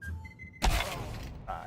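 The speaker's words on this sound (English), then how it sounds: "Throwing a flashbang!" Flashbang grenade in the video game Counter-Strike 2 goes off with a sudden sharp burst and a harsh, crackling hiss that lingers for about a second, loud and near, after a short stretch of quieter game sound.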